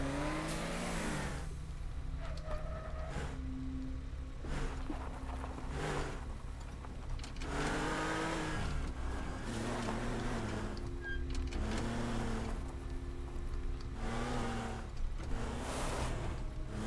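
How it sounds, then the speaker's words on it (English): A stolen Lamborghini in the game Teardown drives and revs, its engine note repeatedly climbing and falling in loud bursts separated by brief lulls, close and unaccompanied by talk. "I might as well just go ahead and steal this Lamborghini and just station it by the guardhouse"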